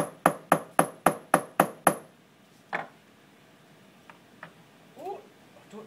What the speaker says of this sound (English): Just give it a tap with the flat surface of your hammer.